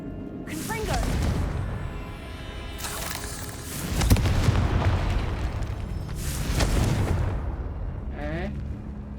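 Confringo spell blasts in the Hogwarts Legacy video game: several booming fiery explosions with crackling bursts that rise and fade over a few seconds, interleaved with game effects and a spoken line.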